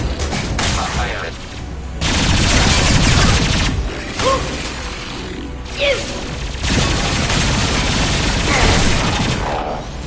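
Gunfire striking the player's shields in Mass Effect 2, a dense loud barrage of shots and impacts in heavy bursts with short lulls, a voice speaking briefly over the firing.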